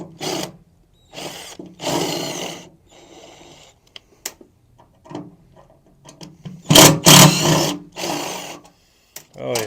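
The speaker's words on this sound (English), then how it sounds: "So I'm gonna go ahead and take these little screws out here." Small screws come out of a Bluebird bus wheel well in short whirring bursts from a power driver, several separate runs with pauses, one louder buzzing burst near the end.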